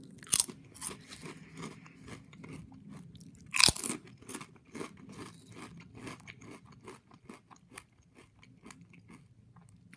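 Lay's everything bagel and cream cheese flavored potato chips crunch loudly in close bites, followed by quieter, irregular chewing crackles.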